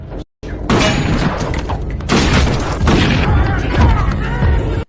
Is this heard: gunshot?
yes